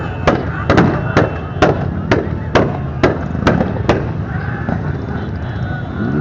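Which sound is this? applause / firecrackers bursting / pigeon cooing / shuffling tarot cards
firecrackers bursting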